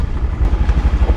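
Rented motor scooter riding along the An Bang Beach road in Hoi An, Vietnam, its small engine putting out a close, steady low putter with a rough pulsing rhythm throughout.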